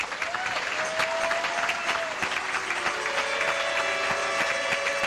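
A church congregation claps together, a dense, steady patter of applause that carries on under faint reverberation and a held tone, with no speech over it.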